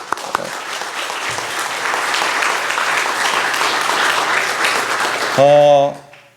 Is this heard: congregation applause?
yes